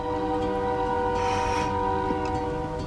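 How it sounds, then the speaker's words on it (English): A train passes on railroad tracks beside a house, its sustained horn blaring steadily over the low rumble of rolling cars, loud and close, with no one speaking. "there's a train going by, so that's what you hear in the background"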